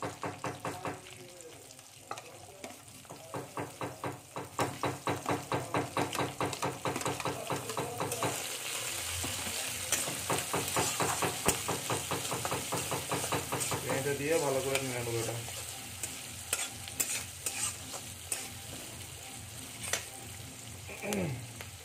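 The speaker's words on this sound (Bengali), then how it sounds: "এবার আমি এর মধ্যে পেঁয়াজটা দিয়ে দেবো" Onion sizzles as it fries in hot oil with curry leaves, bay leaf and dried chilli for a chicken curry, a steady crackle broken by rhythmic scraping and stirring strokes, with brief speech partway through.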